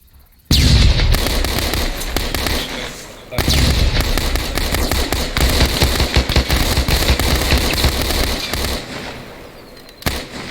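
A flashbang grenade detonates during room-clearing close-quarters training, a loud sudden blast followed by sustained crackling and bursts of noise for several seconds, with people talking through it.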